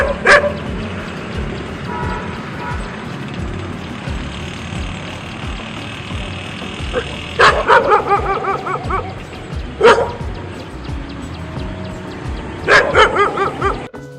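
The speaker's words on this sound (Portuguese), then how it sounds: "Confira nesse vídeo cachorros latindo e os tipos diferentes de latido." Dogs barking in various styles: steady background yips and bow-wows, then sharp, loud bursts of rapid barking near the middle and end, close and alone without talk.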